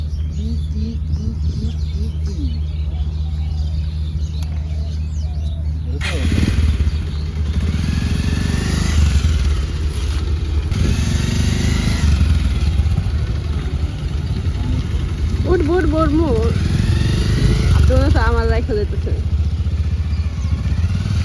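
A motorcycle engine idles steadily and close by throughout, in a rainy outdoor setting, with a low rumble under bird chirps and occasional clatter.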